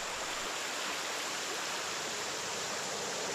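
Swift creek water rushing steadily near a hollow in Red Fox, Perry County, Eastern Kentucky after flooding, a constant broad hiss with no pauses and no voices.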